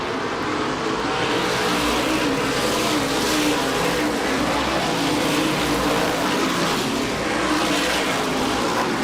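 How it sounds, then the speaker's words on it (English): Stock cars in a 2005 Star 100 race roar steadily around an oval track, a dense continuous engine drone from the field with no pauses and no voices. "Bateman races the 76 of Peter Daniels."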